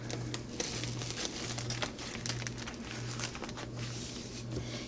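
Jumbo plastic bag being opened up in a kitchen while making a blackberry cream pie, close soft crinkling and rustling that keeps going throughout, faint and with no talk.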